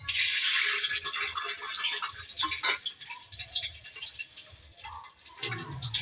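Loud hissing sizzle of spices frying in hot oil in a pressure cooker holding a little water, bursting and spattering in uneven waves, close by and without any voices.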